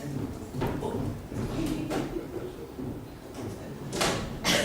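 A door is opened or closed indoors, giving a few dull knocks and sliding thumps spread over several seconds against a steady background murmur.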